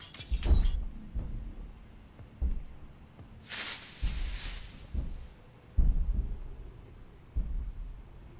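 In the Project Zomboid video game, broken glass is removed from a window with sharp repeated knocks and clatters, plus one bright burst of shattering glass in the middle, all close and distinct.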